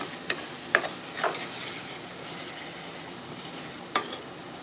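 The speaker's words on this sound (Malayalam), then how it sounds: "അയില ഫ്രൈ" Mackerel fries in a pan with a soft, steady sizzle, punctuated by a few distinct clacks and scrapes of a utensil turning the fish, close and fairly quiet with no talking.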